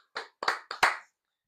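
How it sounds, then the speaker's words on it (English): A few podcast hosts clap for themselves in four short, separate bursts over about a second, close and fairly quiet, then silence. "Round of applause for ourselves."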